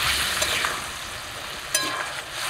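Potato and cauliflower pieces fry in a pan after a spice paste is added, giving a steady hissing sizzle with a few soft stirring clinks, close and continuous without talk.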